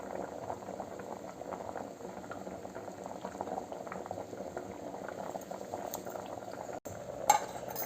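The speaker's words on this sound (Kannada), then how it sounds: "ನೋಡಿ ಚೆನ್ನಾಗಿ ಕುದೀತಾ ಇದೆ." A pot of water at a rolling boil for avarekai sappesaru: a continuous bubbling and gurgling, steady and moderately quiet, with a faint clink near the end.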